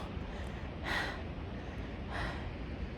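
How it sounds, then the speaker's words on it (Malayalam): A trekker pants twice, close to the mic, on a muddy, rain-soaked trail toward Annapurna Base Camp, with steady wind and rain hiss throughout. "കിതയ്ക്കുന്നു"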